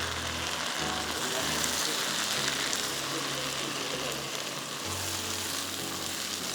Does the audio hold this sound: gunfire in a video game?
no